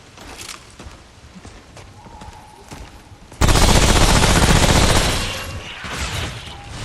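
Gunfire in the video game Remnant: From The Ashes, with sniper enemies firing, starting as scattered faint cracks and then bursting into a loud, dense sustained barrage that slowly tapers off; no talking.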